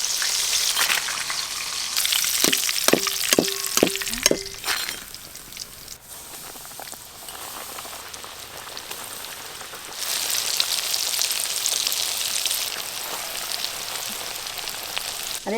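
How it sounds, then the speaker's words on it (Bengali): KFC-style chicken deep-frying in hot oil, a steady crackling sizzle that runs through the clip, with a few brief tonal clinks near the start and a brighter, louder stretch of frying toward the end. "KFC বেশ কড়া করে ভাজা হচ্ছে, বেশ লাল লাল করে"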